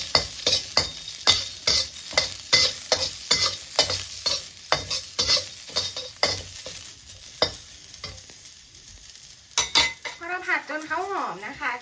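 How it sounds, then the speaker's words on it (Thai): Garlic and coriander root stir-frying in a pan over medium heat, with steady sizzling and repeated sharp scrapes and clinks of a utensil against the pan in a brisk rhythm, close and fairly loud. "แล้วเราก็ใส่กระเทียมแล้วก็ราก ผักชีนะคะ ลงไปผัดให้เขามีความหอมนะ"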